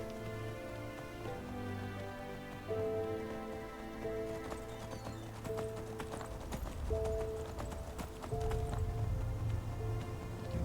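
Rapid clip-clop of hooves galloping steadily on a road in the fantasy game Enderal, up close and continuous, layered over a sustained musical score with occasional rain-like patter.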